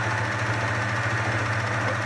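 A Jaguar HQ-082DW overlock sewing machine runs steadily at close range, giving a smooth, even mechanical hum with a low, regular pulse and no pauses, and no voices over it.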